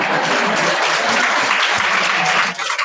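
An audience at a university mathematics day event claps together in a loud, dense, continuous burst of applause lasting nearly three seconds before tapering off.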